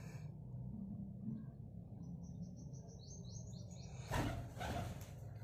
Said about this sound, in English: Pigeon chicks.